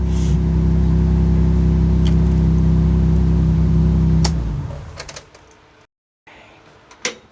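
A CL9 Honda TSX Type S engine runs loud and steady close by, then cuts off abruptly after about four seconds, leaving quiet clicks, a brief silence and a final knock.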